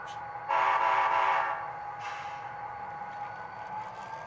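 Lego train engine fitted with a Blue Nami sound decoder, a small loudspeaker playing a horn blast that sounds for about a second and then a continuing rumble of engine and rail noise at moderate volume, no voices.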